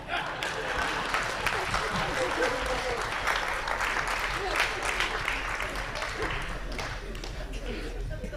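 Audience applause at a recitation, a dense and steady wash of many hands clapping throughout, moderately distant and even in level.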